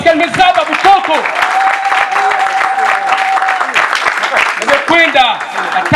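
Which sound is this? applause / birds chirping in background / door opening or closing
applause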